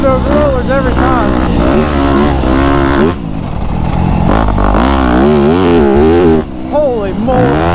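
Dirt bike engine revving and shifting pitch while riding a motocross track in Delaware, loud and close throughout, with brief dips around the three- and six-second marks.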